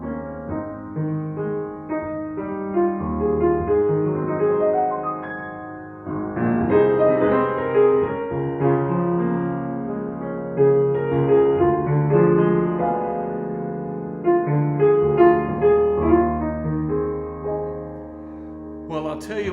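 The opening of the gospel hymn "Precious Lord, Take My Hand" is played on a solo instrument in a church setting. A slow, full harmonic melody with sustained chords continues steadily at moderate volume, with no voices.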